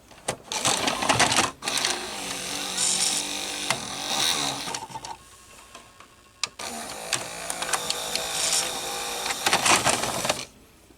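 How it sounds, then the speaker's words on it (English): The loading motor of a Panasonic NV-HD100PX VCR with a K mechanism whirs close up in two mechanical bursts, with clicks, gear chatter and a brief quiet pause between them. "Now close up of this loading motor"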